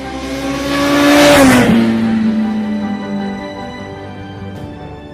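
A Suzuki GSX-R sport motorcycle engine revving loudly as it sweeps past, pitch climbing then dropping as it goes by, followed by a fading engine drone.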